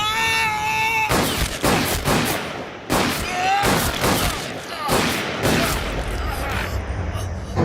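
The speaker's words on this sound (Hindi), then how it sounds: "किसने गोली चलाई है?" Several sharp, loud gunshot bursts crack out in a tense dramatic film scene, interleaved with music and a wailing voice.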